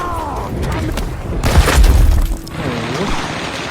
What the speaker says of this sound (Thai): โดนระเบิดอีก